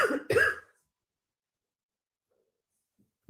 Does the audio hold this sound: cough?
yes